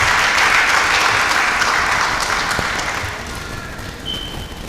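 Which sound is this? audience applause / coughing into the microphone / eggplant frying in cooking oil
audience applause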